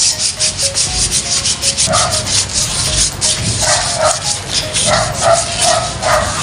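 Sandpaper rubs back and forth over the steel center stand of a Honda Click scooter after penetrating oil is applied, a steady close scraping with rhythmic strokes and a few squeaky surges.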